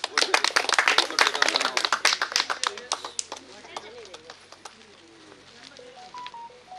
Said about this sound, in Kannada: ಇವರಿಗೆ ಕೂಡ ಜೋರು ಚಪ್ಪಾಳೆ